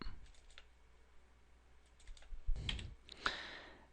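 Fingers tap on a computer keyboard in sparse, faint clicks that cluster into a few quicker bursts toward the end, in a quiet room.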